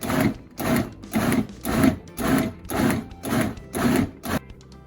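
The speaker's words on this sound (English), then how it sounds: "So I'm just gonna pulse it up. It should be nice and juicy. Just gonna keep blending." A blender pulses a salsa of tomatoes, onions and peppers in about eight short, evenly spaced whirring bursts, close and loud, with no voices.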